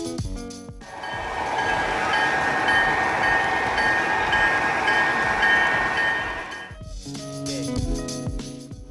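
A model train rumbles past at Kansas City's Union Station exhibit with a steady, whooshing roar that builds and then fades. Lighter mechanical clatter follows at the end.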